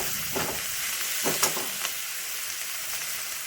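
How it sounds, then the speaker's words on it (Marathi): Potatoes being stirred with turmeric in a frying pan: a continuous soft sizzle broken by a few scraping strokes of a spoon, close by, with no voices. "मस्तपैकी ह्याला मिक्स करायचं हळद टाकून।"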